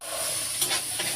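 Bitter gourd sizzles and fries in a pan, a steady bright hiss with a few scraping stirs of a spatula, close and continuous.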